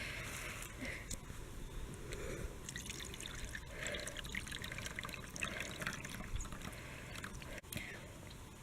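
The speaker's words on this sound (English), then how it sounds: "Sam, the next step is to pour that into the strainer to separate the solids from the buttermilk" Buttermilk splashes and trickles steadily through a strainer as butter solids are separated, a continuous close dribbling of liquid with people talking over it.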